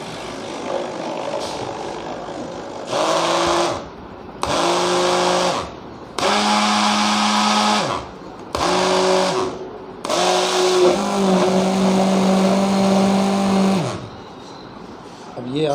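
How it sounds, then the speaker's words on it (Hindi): An electric mixer stirring liquid detergent whirs in several bursts of a few seconds each, starting and stopping repeatedly with a loud, steady motor hum and brief pauses between. "उसको हम मिक्सर की मदद से भी हल कर सकते हैं"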